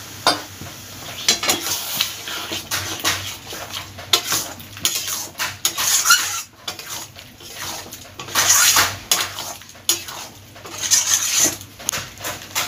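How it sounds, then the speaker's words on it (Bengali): Fried potatoes are stir-fried with pointed gourd in a pan, a spatula scraping and clattering against the metal in uneven repeated strokes over a light sizzle, loud and close throughout; nobody speaks. "এবার ভাজা আলুগুলো এর মধ্যে দিয়ে ভালোভাবে কষিয়ে যেতে হবে"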